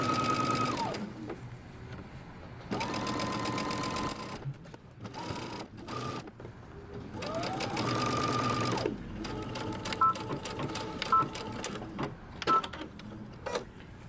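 A home sewing machine runs in several bursts as it stitches down a dress sleeve with a back stitch at the start, its rapid motor whir close and steady, separated by brief pauses and handling clicks.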